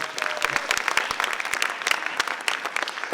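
Audience applause at a Q and A session following a screening of the film 'Facing the Wind', a dense, steady clatter of many hands clapping close by, with no talk over it.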